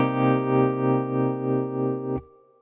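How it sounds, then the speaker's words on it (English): A pedal steel guitar played through a Morgan Amps Suite amplifier, without tape delay, holds one rich sustained chord that swells gently and then cuts off abruptly near the end, leaving a faint tail. "Without the tape delay, sounds like this."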